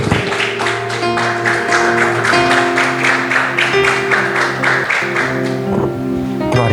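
A church congregation claps steadily and rhythmically in time with music, the applause loud and continuous over sustained organ-like tones throughout.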